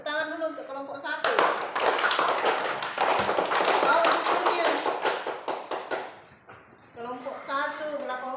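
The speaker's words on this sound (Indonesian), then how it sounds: "tepuk tangan dulu untuk kelompok 1" Classroom of students clapping for a group about to present, a burst of rapid, close hand claps lasting several seconds, with a teacher speaking before and after.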